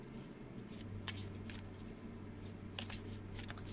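Tarot cards shuffled overhand, quiet, intermittent soft slides and taps repeating irregularly over a low steady background hum.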